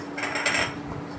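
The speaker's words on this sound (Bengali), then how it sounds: "আমি একটু ওটা নেড়ে নিচ্ছি।" Rajma dal being stirred in a cooking pot, heard as a brief stretch of close, steady scraping and light metallic clinking of a utensil against the pot, with no voices.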